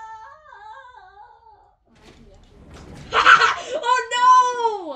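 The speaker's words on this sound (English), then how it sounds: "Someone was screaming." A scream inside the video game Intruder: a voice talks quietly first, then a sudden loud, strained cry rises and wavers for a second or two, followed by a wailing tone that bends downward.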